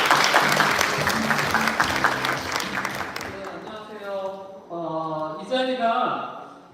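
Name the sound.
audience applause welcoming the department head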